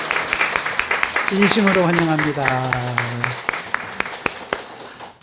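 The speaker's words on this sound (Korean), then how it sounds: "우리 박수로 환영하도록 하겠습니다" A congregation claps in welcome at a Christmas church service, brisk scattered claps throughout while someone speaks over them in the middle.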